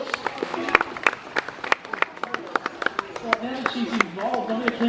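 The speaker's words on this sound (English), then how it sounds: "Let's give Cedar a round of applause." Scattered, light clapping from a modest crowd at a tiger show, uneven and sparse rather than a full ovation, with a voice speaking over it toward the end.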